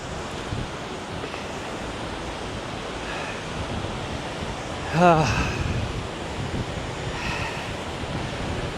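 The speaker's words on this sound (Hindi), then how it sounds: "मैं पहुंच गया हूँ उसी वाटरफॉल पे" Waterfall at the end of a short hike near Adelboden, Switzerland, a steady broadband rush of falling water filling the whole clip, with a brief louder burst midway.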